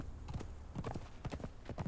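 Horse hooves clip-clop in the video game Conan Exiles, an uneven run of hollow thuds at a walking pace, fairly close, with faint background noise.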